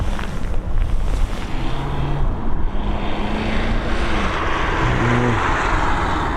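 Airliner taking off from Dublin Airport, a broad roaring jet rumble heard from a distance, steady and fairly loud, with faint tonal whine drifting through as the aircraft climbs away.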